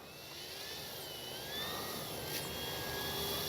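A CNHL Super Tucano RC airplane takes off from grass, its electric motor and propeller holding a high, steady whine that rises slightly in pitch and loudness as it climbs away.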